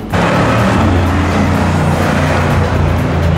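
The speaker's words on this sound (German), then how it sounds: "hier klingen die Autos einfach noch geil." Steady, loud street traffic near Rodeo Drive in Los Angeles, car engines rumbling past continuously, a dense low roar without pauses.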